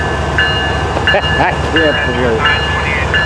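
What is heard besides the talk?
FEC 103 locomotive train moving off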